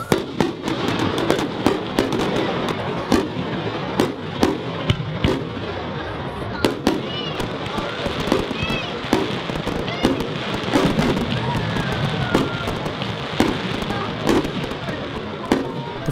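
A large community fireworks display watched by over 7,000 people, with frequent sharp bangs and crackles, some near and some distant, over a murmuring crowd.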